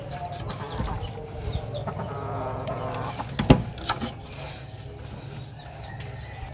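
Native chickens cluck softly in a backyard farm coop, with a louder squawk midway, fainter bird calls and a low background hum, all at moderate distance.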